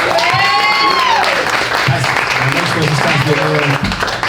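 A crowd applauds and cheers loudly and steadily, with voices shouting over the clapping throughout.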